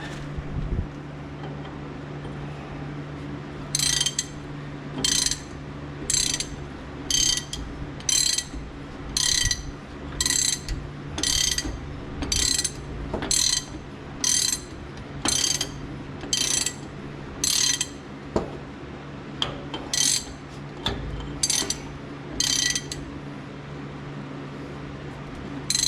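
A hand ratchet wrench clicks in repeated quick bursts while tightening a fitting, with a steady low mechanical hum running underneath throughout.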